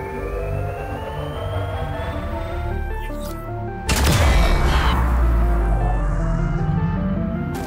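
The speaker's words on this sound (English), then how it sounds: "there is a explosion by the tree" An explosion in the video game Grounded bursts partway through, a sudden loud boom with a deep rumbling tail over steady game background music and ambience.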